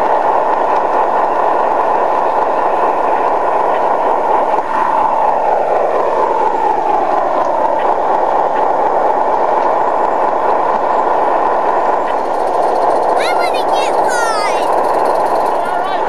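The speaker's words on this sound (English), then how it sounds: "And there's John's train in the background." A garden-scale model train runs on an outdoor railroad layout, a steady broadband rumble and rolling hum filling the whole stretch, with faint chirps near the end.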